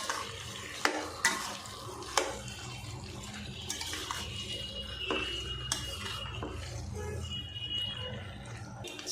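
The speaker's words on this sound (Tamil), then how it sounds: "சிக்கனை நல்லா மசாலாவோட பரட்டி விட்டுருவோம்" Chicken pieces coated in masala and salt fry in a pan and are stirred, giving a close, steady sizzle with scraping strokes and a few sharp knocks; faint running water sits in the background.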